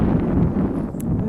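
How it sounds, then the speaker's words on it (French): Strong outdoor wind buffets the microphone with a steady, loud, low rumble throughout, broken only by a faint brief click near the end. "désolée si vous entendez beaucoup de vent, là. C'est parce qu'il vente quand même vraiment beaucoup."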